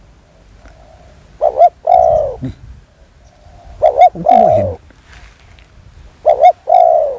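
Spotted doves coo in repeated phrases, each a couple of short notes followed by a longer hollow coo, nearby and clear, with someone speaking briefly in Thai between them.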